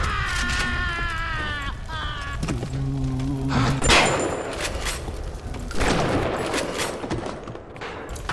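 Shotgun loaded with exploding buckshot in BioShock fires several sharp blasts with heavy thumps and reload clatter, loud and close, interspersed with mechanical clicks.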